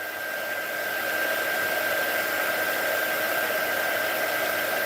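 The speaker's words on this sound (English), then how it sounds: "This is a little heat gun that I use for various different things." A small craft heat gun runs with a steady, even blowing hiss and a faint high whine, holding constant throughout with no talk.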